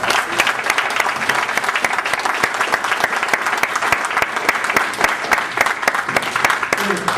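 An audience applauds after a talk on sustainable development in the Southeast region, a dense, steady wash of clapping from many hands at medium distance, sustained throughout.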